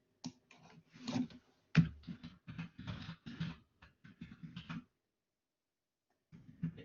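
Typing a web address on a computer keyboard, a run of close, quick clicks and key taps in uneven bursts for about five seconds, a short pause, then a few more taps at the end.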